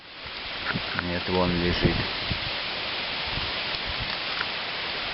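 Strong wind gusts roar steadily outdoors beside the Olenyok river, a broad loud rushing wash that never lets up, with someone speaking briefly near the start over it.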